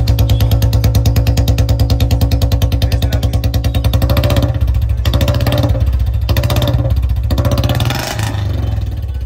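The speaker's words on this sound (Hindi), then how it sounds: "जब बाइक आप स्टार्ट करोगे तो ये कुछ इस तरीके का साउंड मिलेगा आपको" A Royal Enfield Bullet Standard 350 motorcycle with a modified exhaust idles loud and close with a rapid, throbbing exhaust pulse, steady throughout with slight shifts in tone near the end.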